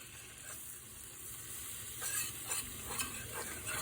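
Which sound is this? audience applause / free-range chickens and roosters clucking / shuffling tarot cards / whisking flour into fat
whisking flour into fat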